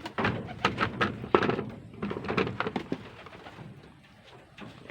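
Racing pigeons released from their loft coo and flutter close by in light drizzle, with soft wing flaps and a few thumps, fairly quiet throughout.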